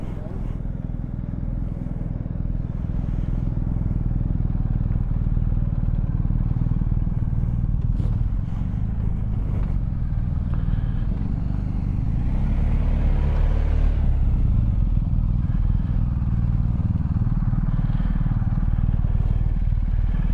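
Heavy touring motorcycle on a Pyrenees-Picos road tour, its engine held high in third gear as a steady, loud rumbling drone mixed with wind noise, swelling slightly midway; a voice talks faintly at times.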